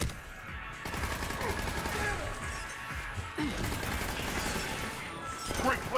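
Gunfire from a weapon in the video game Mass Effect 3, a dense run of crackling shots and crashing impacts in a busy firefight, loud and continuous with scattered bursts throughout.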